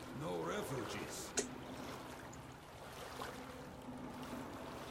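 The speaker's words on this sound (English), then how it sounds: "I saw a boat coming in." A boat approaching across open water in the game Metro Last Light Redux, a steady wash of water and engine rumble throughout, with a voice talking over the start and a brief sharp knock partway in.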